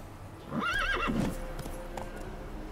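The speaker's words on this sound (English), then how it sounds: "Why is my horse fucking stuck?" A horse in The Witcher 3: Wild Hunt gives a loud, close whinny with a wavering pitch, followed by a few hoof clops and a low rumble underneath.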